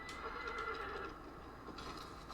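A horse in the video game Shadow of the Colossus lets out a faint neigh. The whinny is quiet and thin, set against a soft background ambience, with no talking.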